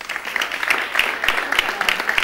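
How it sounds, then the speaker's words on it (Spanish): An audience at a Spanish-language presentation session gives brief applause: a thin, fairly even run of claps from a modest crowd, moderately loud and lasting a couple of seconds. "Venga, un aplauso."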